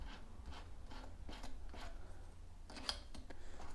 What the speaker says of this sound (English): So what we're going to do is put our bit in